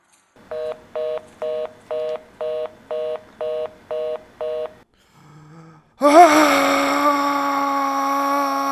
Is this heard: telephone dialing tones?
yes